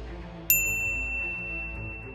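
A single bright bell ding rings out clearly and lingers, fading slowly over a quiet background.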